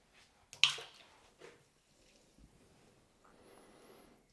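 Thick liquid malt extract poured into a homebrew pot of hop-steeped water for a beer: a sharp splash and glugging plop, a second dull drop, then quiet dripping and a soft liquid trickle, close and faint.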